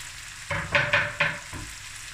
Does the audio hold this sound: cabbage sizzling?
yes